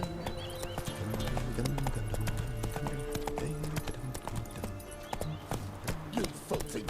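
Hooves of Roach, the horse in The Witcher 3, clip-clop in a steady walking rhythm close by, with game music underneath and brief speech.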